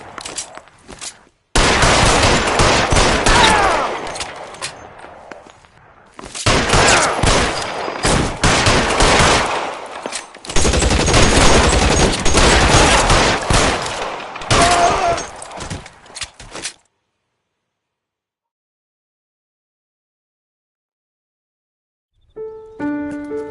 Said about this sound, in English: Officers need help at 1452 North Las Palmas. Shots fired.